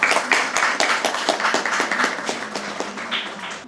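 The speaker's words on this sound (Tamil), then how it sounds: "எனவே அவருக்கு உற்சாகமான கரகோஷம்." Enthusiastic applause for the best debater at a school debate competition, a steady patter of many hands clapping throughout, fairly close and continuous, with some crowd murmur mixed in.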